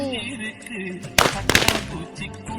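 A string of Diwali firecrackers (saravedi) goes off in a quick burst of sharp, crackling pops lasting about half a second, with faint voices before and after.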